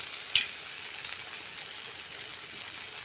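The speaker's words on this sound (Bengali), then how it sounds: "মশলাটাকে আমি ভেজে নেব" Masala spice mix frying in a pan, a soft steady sizzle close by with one sharp tap of a utensil early on, then an even hiss with faint stirring scrapes.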